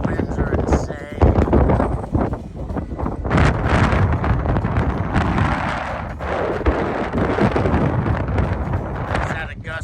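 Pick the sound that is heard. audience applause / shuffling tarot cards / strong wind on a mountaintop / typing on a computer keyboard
strong wind on a mountaintop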